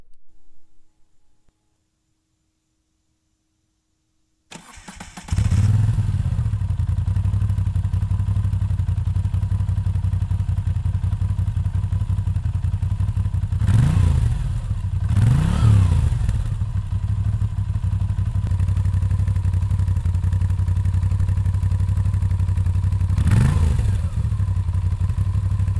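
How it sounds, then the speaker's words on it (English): A Moto Guzzi V9 Roamer V-twin with stock mufflers starts up and settles into a steady, moderately loud idle, with a few brief revs rising out of the even rumble. "The stock mufflers aren't bad, but they don't deliver all that rich V-twin rumble."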